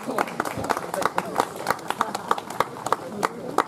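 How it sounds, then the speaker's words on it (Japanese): An audience applauds at an awards ceremony for the All Japan Trials Championship in Kyushu, with dense, steady clapping from many hands sustained throughout, fairly close. "皆様拍手お願いいたします。"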